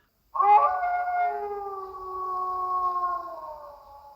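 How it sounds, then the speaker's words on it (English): A single long, mournful howl rises suddenly and holds steady for several seconds, fairly loud and close, with no other sounds around it. "You need to pay attention to the howls."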